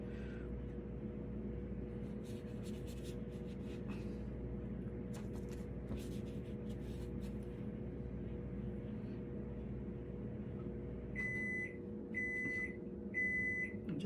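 A microwave oven beeps three times after heating a cup of coffee, with short, clear, evenly spaced tones near the end, over a steady low hum.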